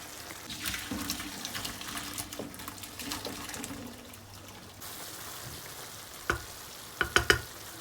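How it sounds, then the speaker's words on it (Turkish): Boiled pasta drains in a kitchen sink, water pouring and splashing steadily for several seconds, then a few sharp clatters of a colander or pot near the end. "ben hemen makarnamızı süzüyorum arkadaşlar."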